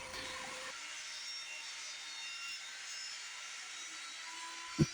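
A saw with its blade raised partway cuts through a 1x6 board, giving a loud, steady, continuous roar that holds for the whole stretch and ends with one brief thump.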